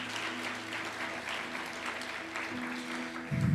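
A church congregation applauding, a sustained wash of many hands clapping at a moderate distance, steady throughout and swelling slightly at the end, with a low hum of sound underneath.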